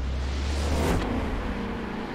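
A Rover SD1 engine in Forza Horizon 4 drones steadily and loudly, with a brief whooshing rise near the middle as it revs or passes close.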